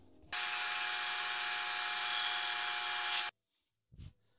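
A bandsaw cuts freehand through plywood with blue tape on the back, giving a loud steady whining buzz for about three seconds that stops abruptly, followed by a faint knock, close up with no talk.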